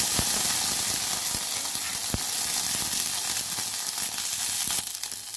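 Steady, bright sizzling of neem flowers frying in hot ghee, a continuous crackling hiss with scattered pops, close and fairly loud throughout.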